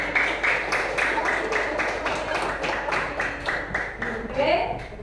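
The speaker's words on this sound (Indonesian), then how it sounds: "Tepuk tangan untuk kelompoknya." Students in a classroom clap for a group with quick, dense applause that runs throughout, mixed with chatter and voices in the room.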